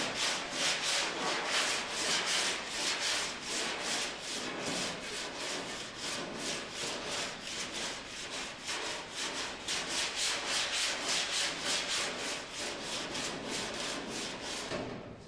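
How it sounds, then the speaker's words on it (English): A sanding block is stroked back and forth over a curved steel quarter panel on a Porsche 356 under restoration, a steady rhythmic scratchy rubbing of close, regular strokes with no talk. "I decided to use a sanding block because I can kind of curve it a bit like the section."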